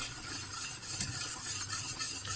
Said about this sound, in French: on mélange dans le béchamel